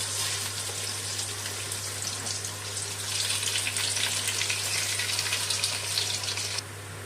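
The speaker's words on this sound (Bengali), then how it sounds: "গ্যাসটা বাড়িয়ে দিয়ে চালটা ভেজে নেবো ভালো মতো করে" Gobindobhog rice fries in oil in a pan with bay leaves over raised gas heat, making a loud, continuous sizzle with a steady low hum underneath.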